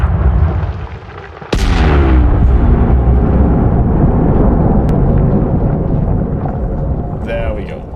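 Heavy detonation explosions in a space mining video game, a sudden loud blast followed by sustained rumbling booms and crackling debris that roll on for several seconds, with a sharp pop near the end.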